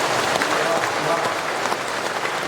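Steady applause from a crowd, dense and continuous clapping throughout, fairly loud and close.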